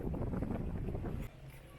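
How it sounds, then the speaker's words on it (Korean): Strong, steady wind gusts roar across the microphone on a highland road, a loud continuous rumble that eases slightly toward the end. "엄청 세게 강으로 부는 그런 바람이 불고 있습니다"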